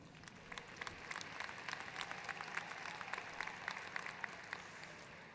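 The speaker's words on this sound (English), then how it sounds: "You can applaud for that one, by the way." Scattered applause rises from a distant crowd at a university commencement ceremony, a thin, even patter of many hands that carries on steadily without speech on top.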